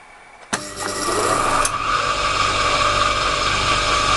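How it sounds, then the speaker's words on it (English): Motor-driven saw in a garage, spinning up abruptly from quiet to a loud, steady high-pitched whine that holds evenly for several seconds, close by. "Because that was the saw."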